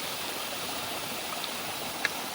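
A waterfall beside a hidden mine roars in a steady, close rush of falling water as wind blows the spray back, with one tiny click near the end and no voices.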